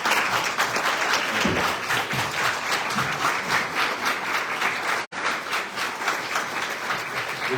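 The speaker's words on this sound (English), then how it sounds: "we can give you another round of applause" Audience applauding at a town hall meeting in Dare County, a loud, sustained round of clapping from a crowd, with a brief dropout partway through.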